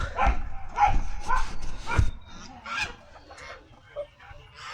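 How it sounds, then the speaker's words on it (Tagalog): Chickens clucking and squawking excitedly nearby in agitation as a monitor lizard attacks them, with overlapping calls and a dog-like bark among them. "Kaya pala nagwala ang mga manok."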